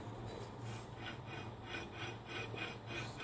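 A faint, gritty grinding rasp repeats in a steady rhythm as a worn, noisy wheel bearing from a 2004 Honda Civic is rotated by hand close by.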